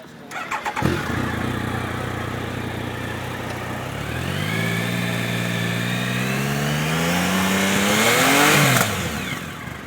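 A Triumph Sprint GT motorcycle engine cranks and fires after a short starter whir, then settles into a steady, loud idle with rising revs and a blip near the end, close up with no talk.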